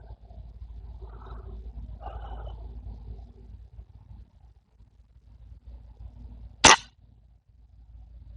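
A single sharp airgun shot fired at a 10-yard target cracks out once near the end, loud and close, after a stretch of quiet outdoor background.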